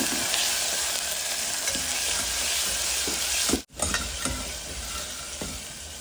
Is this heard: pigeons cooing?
no